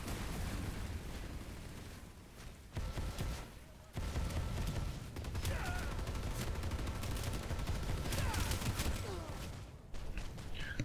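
A Vanu heavy assault weapon with a 75-shot magazine fires in long sustained bursts during Planetside 2 combat, dense rapid gunfire with short pauses, plus surrounding battle noise.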